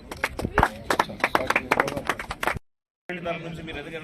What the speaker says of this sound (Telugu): మరొకసారి గట్టిగా చప్పట్లతో స్వాగతం సుస్వాగతం